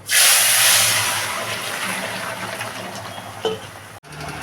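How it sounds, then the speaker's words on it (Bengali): Curry broth is poured into a hot pan holding burnt cumin for pabda fish curry, starting as a loud rushing sizzle that slowly fades into a softer simmering hiss. "আমি এবার ঝোলটা ঢেলে দেবো"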